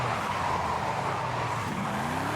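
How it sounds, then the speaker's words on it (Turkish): A car in Forza Horizon 5 spins through a 360-degree handbrake drift, its engine droning steadily with a continuous tire squeal and a rising engine pitch near the end, loud and close with no talk over it. "Ve tam dönecekken el frenini bırakıyorum bu şekilde. Evet 360 yapmış oluyoruz."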